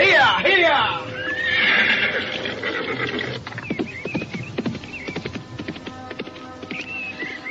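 A horse neighs loudly near the start, then hooves clip-clop in a quick, uneven galloping rhythm as the rider sets off, with voices in the background.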